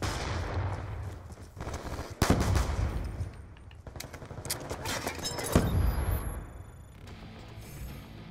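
Gunfire in the Black Ops 2 video game, with dense bursts of loud automatic shots and sharp single cracks close by, building over a constant rumbling background with no talk.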